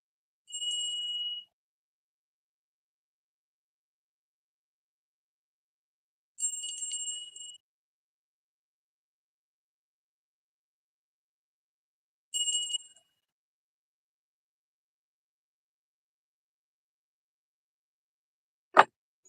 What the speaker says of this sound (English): Anyone who is sound sensitive, Tiger King, we're going to ring the bell for you 3 times, my friend.